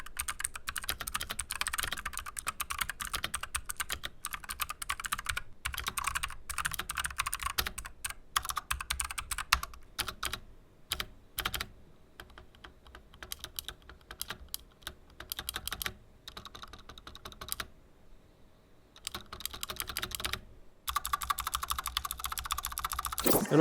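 Rapid continuous typing on a full-size New Dawg HighKey 685 mechanical keyboard with clicky switches, sharp bright clacks close up and a few short pauses, with no talking.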